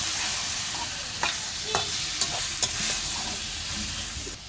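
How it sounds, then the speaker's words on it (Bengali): Beef curry frying in a pan, heard alone as a constant hissing sizzle with scattered scraping clicks from a spoon stirring the meat, close and fairly steady throughout. "গরুর মাংস রান্না করতেছি"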